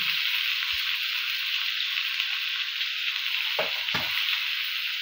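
Potatoes and goat meat frying in oil with chopped onion, green chilli and salt give a steady, close hiss and crackle, with a couple of soft stirring scrapes near the end.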